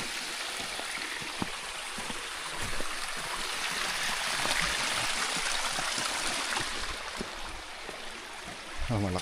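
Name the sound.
strong flowing water current of a stream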